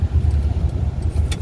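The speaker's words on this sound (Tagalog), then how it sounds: "palalagpasin lang ng isang sasakyan o dalawa" A car passes close by on a road, a loud, low engine drone that holds steady through a brief moment with no voices.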